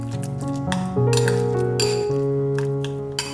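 A spoon repeatedly clinks and scrapes against a bowl while fish or shrimp paste is worked with scallion, fish sauce, salt, pepper and oil for stuffed eggplant, heard over steady background music.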